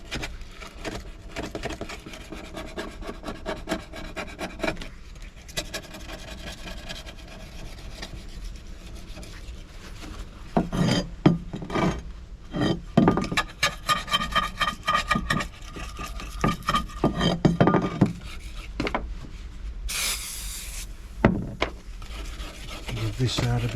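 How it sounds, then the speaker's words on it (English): A Stanley blade scraping a stove door, giving a repeated close rasping scrape in uneven strokes that grow louder and busier partway through, with no talk. "Give this side a bit of a scrape."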